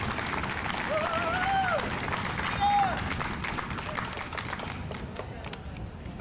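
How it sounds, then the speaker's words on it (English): Audience applause for a CEO at a Juneteenth community celebration, a busy clatter of many hands clapping beneath crowd murmur and a few brief rising tones, gradually thinning toward the end. "give our CEO a big round of applause"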